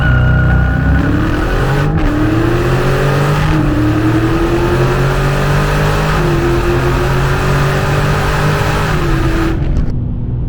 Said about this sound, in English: All right, you guys, let's do a launch.